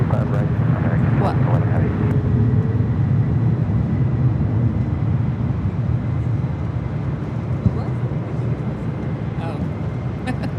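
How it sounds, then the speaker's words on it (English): A UPS Boeing 767-300ER freighter takes off at LAX, bound for Louisville, its broad, loud jet roar rumbling steadily throughout the clip, with people talking over it at times. "Taking off right now was UPS 5903, 767 300 ER, or ER freighter, off to Louisville"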